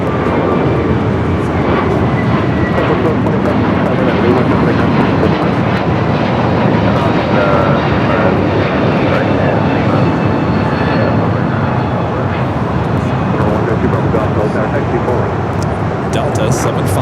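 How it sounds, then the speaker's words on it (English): A United Airbus A321neo jet departing Los Angeles airport, a loud broadband engine roar held steady throughout, with a voice speaking over it. "United A321 Neo, next departure."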